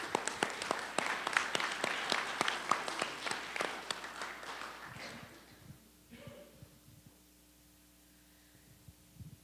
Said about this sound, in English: I would like to give a round of applause for the volunteers